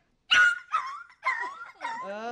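A person imitates a dog yelping in pain after being stepped on, giving four short, high, whining yelps in quick succession, close and clear.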